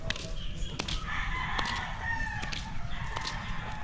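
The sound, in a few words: chickens clucking and rooster crowing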